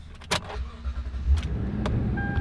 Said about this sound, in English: Well, it's Toyota, so it starts right up.